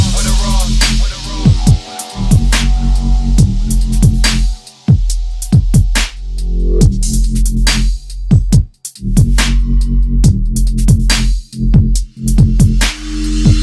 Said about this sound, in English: This is the sound of dubstep.